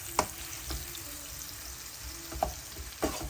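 Mixed ingredients sizzle together in a frying pan, with a steady crackling hiss and a few sharp clinks of a utensil stirring at irregular intervals, close by and without speech.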